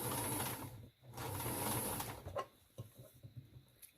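A sewing machine runs in two quick stitching bursts as it understitches a garment neckline, then falls quiet apart from faint handling of the fabric.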